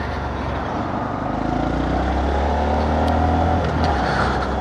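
A BMW car drives past on the road alongside a Honda Monkey motorbike, its steady engine hum and rolling tyre noise swelling and holding close by with no talking.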